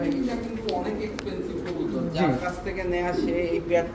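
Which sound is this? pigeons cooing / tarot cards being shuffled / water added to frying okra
pigeons cooing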